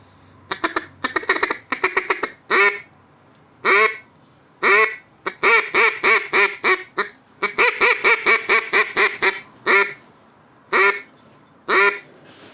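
A bright, clear acrylic duck call quacking in quick bursts, some single and some in rapid strings, loud and close with short pauses between runs.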